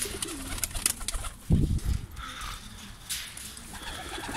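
A pigeon gives a few low throaty coos, with one stronger burst in the middle, against a faint outdoor background of other birds and light ambient noise.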